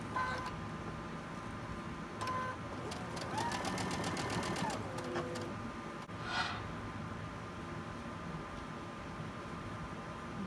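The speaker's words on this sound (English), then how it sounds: "So I'm going to sew that, both of those, and then just chain stitch them." A domestic sewing machine chain stitches quilt block pieces in quick mechanical runs, its needle rattling loud and near with short pauses between seams, and a quieter stretch at the end.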